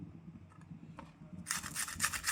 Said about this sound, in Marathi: छान किसून घ्यायची किसणीवर छान किसून घ्यायची